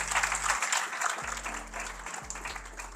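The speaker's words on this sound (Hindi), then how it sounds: "तालियां होनी चाहिए" Audience applause at a live talk-show gathering, a dense steady spread of clapping sustained through the whole few seconds with no speech over it, moderately loud and fairly close.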